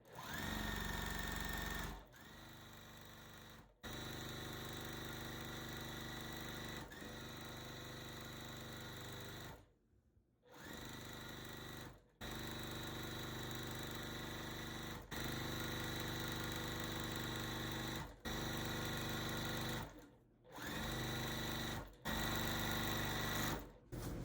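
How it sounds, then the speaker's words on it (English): A sewing machine stitches quilt pieces in long, steady bursts of fast, loud mechanical whirring, stopping briefly several times before starting again. "I'll bring it to my sewing machine and I'll start sewing it together"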